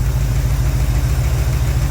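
A stock Pontiac 350 V8 with a slight lifter tick idles loud and close, a steady low rumble with an even, pulsing rhythm and no voices.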